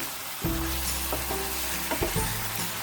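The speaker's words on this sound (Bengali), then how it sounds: "সামান্য একটু জল দিয়ে দেব মশলাটা কষাবার জন্য" Spice paste for cauliflower rezala frying with a splash of water in a pan: a steady, close hiss and sizzle, with occasional light knocks of stirring throughout.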